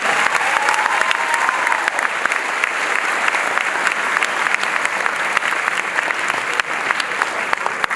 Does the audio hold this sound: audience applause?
yes